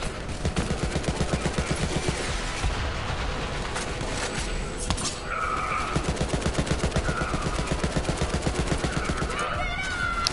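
Vladof assault rifle in Borderlands 3 firing in long, very rapid automatic bursts, loud and close, with a short break midway and faint game tones underneath.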